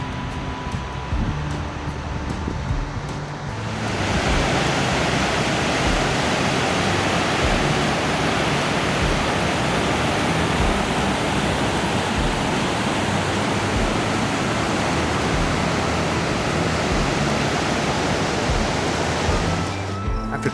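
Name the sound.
rushing water of Hellroaring Creek, Yellowstone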